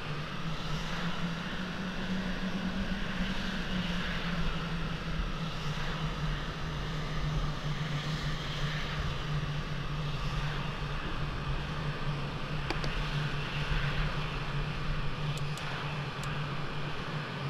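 An F-16MLU jet engine idling on the runway in the flight simulator Falcon 4 Allied Force, a steady loud drone with a low hum and high whine, no speech.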